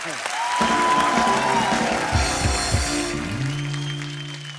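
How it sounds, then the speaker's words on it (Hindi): A studio audience on a comedy talk show claps and cheers in a loud, sustained burst of applause that swells, then slowly fades under music and voices. "जोरदार ताली होनी चाहिए यार"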